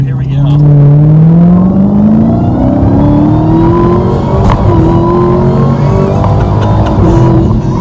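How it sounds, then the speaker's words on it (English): Dodge Demon supercharged muscle car accelerates hard, with a rising supercharger whine over a deep, loud engine rumble heard from inside the car, continuous throughout. "you can hear the supercharger whine, which sounds great"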